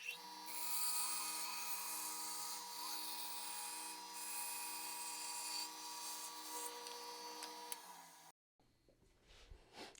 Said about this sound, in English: I just need to cut that in half, and the safest way to do that is just on the bandsaw